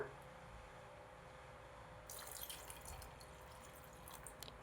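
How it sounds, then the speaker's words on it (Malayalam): A quiet room, then midway a faint splash and trickle as water is poured into a pan of lentil, jackfruit seed, mango and drumstick curry, with soft bubbling noises after. "കുറച്ചും കൂടെ വെള്ളം ചേർക്കണം"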